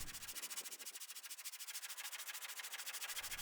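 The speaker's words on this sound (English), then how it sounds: "use sandpaper to smooth over the timber" Sandpaper wrapped around a timber offcut rubbed along the edge of a wooden door, a fast steady back-and-forth rasping strokes, close and even in rhythm, with no talking.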